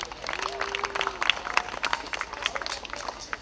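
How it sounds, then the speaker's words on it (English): Scattered audience clapping at an outdoor magic show at a festival, uneven bursts of hands with individual claps standing out, mixed with crowd voices and people talking nearby. "Give Don a round of applause."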